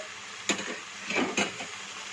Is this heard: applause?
no